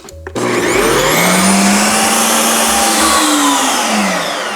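A 7-in-1 ice cream maker churns sorbet, its motor starting abruptly and then holding a loud, steady whirring drone with a slight pitch drift as the paddle spins.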